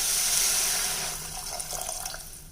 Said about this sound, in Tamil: இப்போ நம்ம தேவையான அளவுக்கு தண்ணி விட்டுக்கலாங்க